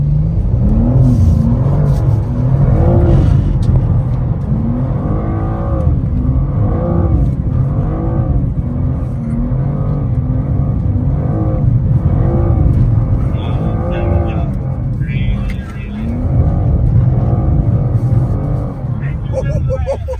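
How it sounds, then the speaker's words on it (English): A BMW M2 drifting on a race track in Italy, engine droning and revving with shifting pitch throughout, loud and close, with people talking over it. "I'm going to clip a video in right here where it's me drifting the M2"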